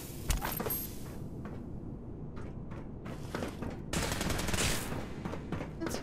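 Gunfire in Fallout 4 combat: scattered sharp shots and bursts, some close and loud, others fainter, spread irregularly over a low background rumble.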